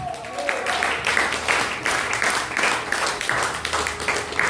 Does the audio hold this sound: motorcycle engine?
no